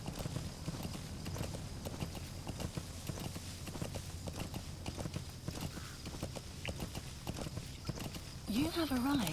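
Rhythmic clip-clop hoofbeats of D-Horse in the video game Metal Gear Solid V: The Phantom Pain trot steadily under game music, ending with a short whinny.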